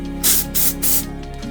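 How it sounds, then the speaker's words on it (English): Dry texture hair spray sprayed from an aerosol can in three short bursts, each a close, bright hiss separated by brief pauses, with no talking. "It's just a dry texture spray."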